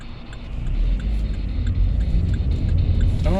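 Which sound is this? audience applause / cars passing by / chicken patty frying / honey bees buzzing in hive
cars passing by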